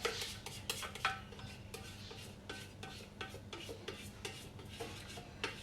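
A spatula or scraper scraping down the inside of a cooking bowl, with quiet, uneven rubbing strokes and small clinks repeating through the clip at low volume, with no talking.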